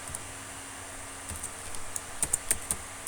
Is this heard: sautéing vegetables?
no